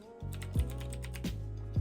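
Computer keyboard keys tapped close by, a few separate clicks spaced roughly half a second apart, quiet and alone.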